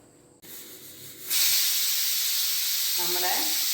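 A pressure cooker cooking ripe mango curry releases steam: after a quiet start, a loud sustained hiss bursts out and continues, with a brief whistle-like tone near the end.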